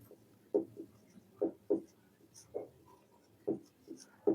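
Numbers are written on a board in short, evenly spaced taps and scratches, about eight of them over a few seconds. Each stroke is brief and moderately close in a quiet room, with no talk.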